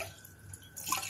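Water pours briefly into a cooking pot of pearl millet set to boil, a short close splash and trickle that grows louder toward the end.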